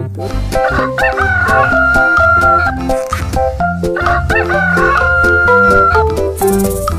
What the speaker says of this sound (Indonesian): Wow, di sini juga ada ayam jantan teman.